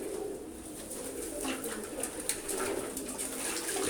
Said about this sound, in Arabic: طبعا لأن الاستحمام ده بينظف الحمام، بيحميه من الأمراض